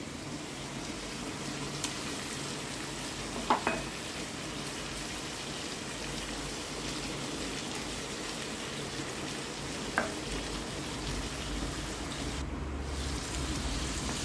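Ginger, garlic and onion paste fries in a pan for a Kashmiri chicken masala, a steady soft sizzle with a few faint scrapes of stirring, no voices.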